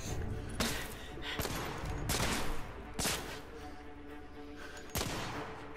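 Gunfire in The Order: 1886, a steady wash of rapid shots punctuated by several sharp, loud bursts spread across the moments, dense and continuous with no talk.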